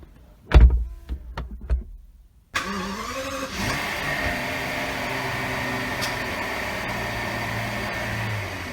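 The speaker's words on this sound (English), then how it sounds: "For the ease of the rear passengers, we have the button of the door located right here" A rear power door on a 2017 Rolls-Royce Ghost Series II, worked by a button: a few quick clicks, a pause, then a smooth, steady electric motor whir that runs on evenly.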